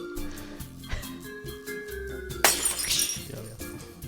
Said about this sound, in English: Your window, Candy. It just shattered.